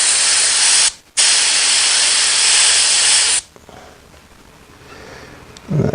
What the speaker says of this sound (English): I'm not getting any paint out of that nozzle at all.